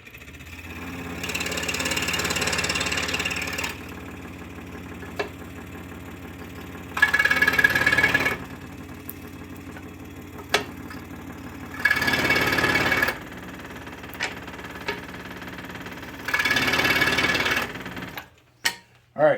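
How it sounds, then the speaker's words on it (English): A scroll saw cuts the tops off wooden dowels in several separate bursts, each a loud, fast buzzing rattle that starts and stops, with quieter gaps and small knocks in between. "we're at the scroll saw here. We're just going to cut these top parts of these dowels off here."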